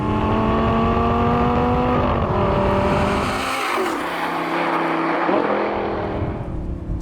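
Orange Lamborghini Gallardo LP550-2 Balboni engine revving hard into a sharp, metallic high-pitched wail, loud and close, with rising and falling pitch through gear changes and no break in the sound.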